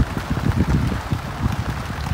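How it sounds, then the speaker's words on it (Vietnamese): Heavy rain beats down outdoors near rice-field edges, a loud, close, dense patter with thick low thudding as drops hit the wet ground, continuous throughout the short stretch. "Mưa lớn, mưa đang lớn rồi cả nhà."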